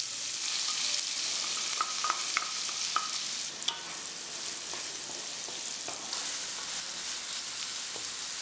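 Chopped onions sizzle steadily in a hot pan with cumin and asafoetida, a continuous bright frying hiss with a few clicks of stirring, close and alone without talk.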